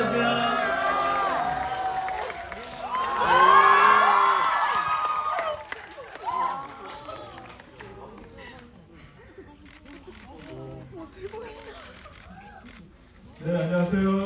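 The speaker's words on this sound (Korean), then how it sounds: "큰 박수로 맞아주세요." A packed cinema audience at a Korean film stage greeting cheers and applauds loudly, the burst peaking early and then tapering into scattered claps and murmuring, with a voice over a microphone toward the end.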